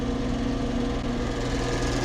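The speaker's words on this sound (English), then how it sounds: "most pressure washers is pretty noisy. That one's running right now" A homemade electric pressure washer runs with a steady, even motor hum and buzz, nearby and unbroken with no talking.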